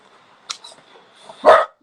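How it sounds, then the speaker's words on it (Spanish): A pet dog named Pascual gives a short yip followed by a louder single bark, close by and otherwise fairly quiet. "Pascual, mi perro."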